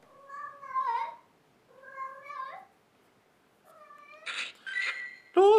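A cat gives a run of separate drawn-out meows, close and clear with pauses between them, the last few sharper and louder, rising toward a wail.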